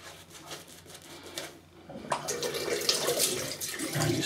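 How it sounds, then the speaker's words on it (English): A tap runs into a sink while a shaving brush is wetted for lathering bath soap. The water gives a steady close splash and gurgle that grows louder and denser partway through. "just wetting the brush a little bit more"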